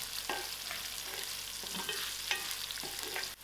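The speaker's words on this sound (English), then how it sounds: "Put in my garlic. Give all this a nice mix." Garlic being stirred into browned onions with a bay leaf in a frying pan, a steady sizzle with a few scraping spoon strokes spread through the clip.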